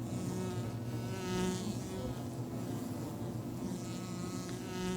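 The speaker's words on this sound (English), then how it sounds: "Now wasps force their way into the hive and steal the last reserves." Wasps raid a weakened wild honey bee colony in a tree hollow, producing a dense steady insect buzz with layered droning wingbeat tones, close and continuous without voices.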